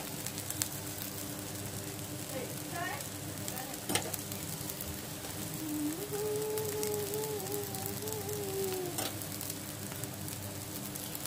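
Pesarattu, a green gram dosa, sizzles steadily on a hot pan with a soft constant frying hiss, while a dove coos in the background and a few faint knocks sound.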